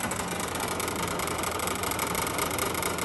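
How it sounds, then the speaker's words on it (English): A compressor powered by an Anker PowerHouse 767 runs with a steady, dense mechanical rattle and a constant vibrating hum at close range, with no talking. "Compressor is rattling"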